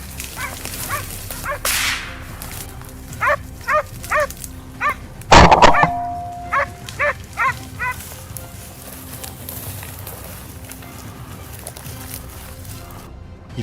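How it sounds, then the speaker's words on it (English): A hunting hound barks frantically from reeds in the field during a wild boar hunt, a run of sharp separate barks spaced through the middle of the clip, with one louder burst partway in and quieter outdoor ambience around it. "the hound's frantic barking echoed from the reeds right in front of John"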